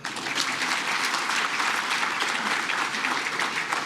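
An awards ceremony crowd applauding steadily, dense clapping that holds at an even level throughout with no voices rising above it.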